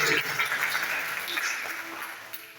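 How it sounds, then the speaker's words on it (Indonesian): Church congregation applauding during a Sunday morning sermon, a steady wash of clapping from a crowd of worshippers that holds at moderate level and slowly thins out. "Kita berikan tepuk tangan."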